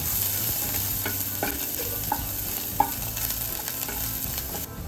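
Onions sauté in hot oil in a pan with a steady close sizzle, punctuated by a few distinct scrapes and clinks of stirring.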